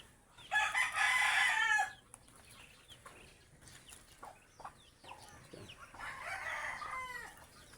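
A rooster crows loudly nearby in one long burst, followed by scattered clucks and bird calls, then another crow further off.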